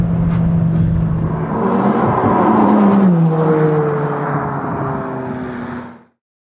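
A McLaren 570S sports car driving on the Rue Napoléon mountain road: a loud, close engine drone rising and shifting in pitch as it accelerates and changes gear, with wind and road noise, then cutting off abruptly near the end.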